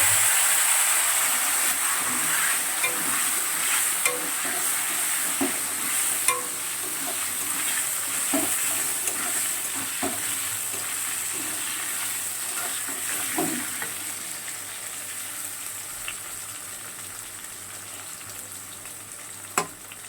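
Pieces of pointed gourd fry in hot oil seasoned with turmeric and salt, a continuous loud sizzle with occasional stirring clinks and pops, with no one talking.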